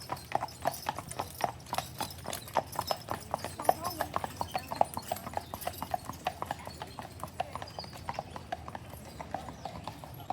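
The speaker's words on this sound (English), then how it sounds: "Here come some more horses." Horses' hooves clip-clop on the pavement of Mackinac Island in a steady, brisk rhythm of many close, crisp strikes that continue throughout, with faint background voices.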